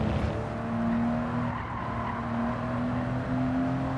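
Racing car in the Gran Turismo video game, a Datsun-like model, with a steady sustained engine drone and tire skid squeal running continuously throughout, fairly loud and without talk.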